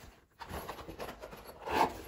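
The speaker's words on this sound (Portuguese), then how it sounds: "Abrindo aqui o zíper." A zipper is pulled open on a handmade plastic carry case, producing a quiet, continuous ripping rasp that builds toward the end, with no talking over it.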